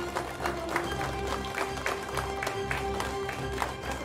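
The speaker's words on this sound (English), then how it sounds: "Let's give ClickPost a big round of applause." An award ceremony crowd applauding a winner in the logistics category, with continuous clapping over a low sustained hum and a faint tonal background, at moderate level.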